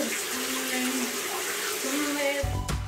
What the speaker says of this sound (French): je vais sous la douche